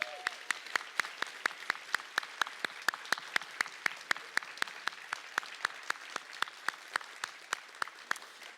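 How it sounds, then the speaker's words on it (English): Audience applause at the OSU College of Arts and Sciences Hall of Fame ceremony, a steady stream of sharp, evenly spaced claps that stands out close by over softer clapping across the hall. "let's give our rising stars, distinguished alumni, and Hall of Fame inductees one more round of applause"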